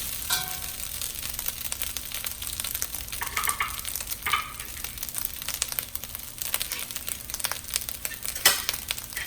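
Plain rice is stir-fried in a wok for Thai crab fried rice, a continuous close sizzle broken by scraping and tossing sounds and a couple of sharper metallic clanks.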